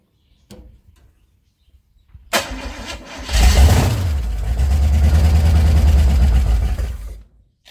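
Holden 253 V8 in an International truck cranks briefly, then catches and roars to life, settling into a loud, steady rumbling idle before cutting off near the end.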